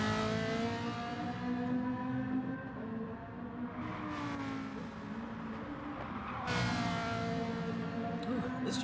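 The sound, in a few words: race car driving on a track in a racing video game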